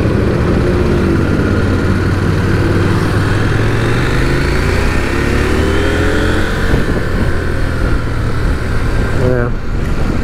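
A CFMOTO 800MT X motorcycle coasts off the throttle under engine braking, a steady loud engine drone with falling pitch sweeps, wind rush throughout and a voice speaking over it.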